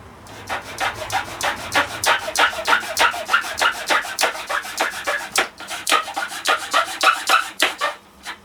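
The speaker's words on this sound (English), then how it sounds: "So, get filing. Should just widen this hole up a bit." A flat needle file rasps back and forth across a plastic hole, widening the opening for a sequential LED indicator on a Yamaha R6; close, steady rhythmic strokes, roughly two per second, with no talking.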